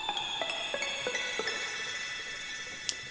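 A synth lead built from a processed cat meow sample plays a string of short repeated tonal notes over sustained chords, soft and dreamy, ending with a brief brighter accent.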